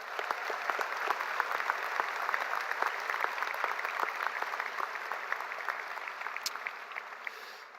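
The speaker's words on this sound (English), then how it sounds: "Please join me in a round of applause for the mothers and grandmothers who are with us here today." Audience at a 2022 high school graduation ceremony applauds steadily for about eight seconds, a dense, moderately distant patter of many hands filling a large venue with no talking over it.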